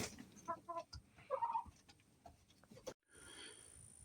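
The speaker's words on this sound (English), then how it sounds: "So I'm coming to check out the chickens." Hens cluck in a cold winter coop, several short clucks and a rising squawk near the start, then a brief mechanical whir, all close and fairly quiet.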